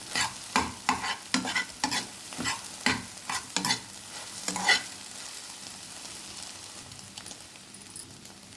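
Eggs fry for egg fried rice as a spatula stirs and scrapes the pan in a quick run of rhythmic strokes, then a softer steady sizzle continues alone.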